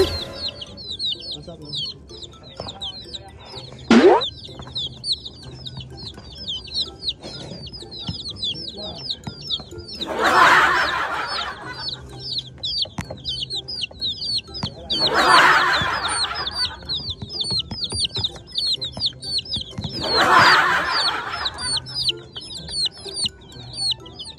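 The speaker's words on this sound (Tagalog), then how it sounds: "panoorin nyo nga itong mga ginawa nga ng sisiw ko nung nag-iwan nga ako ng camera sa loob nga ng playground nila" Chicks in their playground pen keep up a constant, high-pitched peeping, with louder clucking bursts rising over it roughly every five seconds, all nearby.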